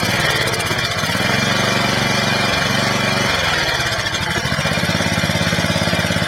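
A Honda engine running on gas vapors idles close by with a loud, steady, rapid putter, its pitch dipping slightly in the middle as the idle is adjusted down.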